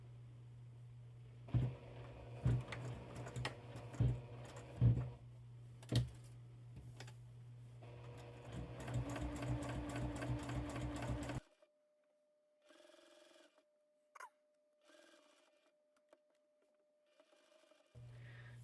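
A sewing machine stitches a scrap-fabric bookmark with a quarter-inch seam, running in short bursts of rapid mechanical whirring and clatter before stopping, then a few faint taps in near silence.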